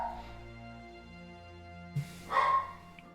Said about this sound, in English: Mango's barking up there